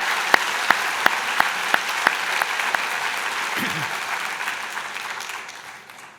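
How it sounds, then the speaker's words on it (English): An audience applauds the graduating class of 2019 at a convocation ceremony, the clapping dense and sustained with a few sharp, distinct claps standing out near the start before the sound gradually fades away. "how about a round of applause to the graduating class of 2019?"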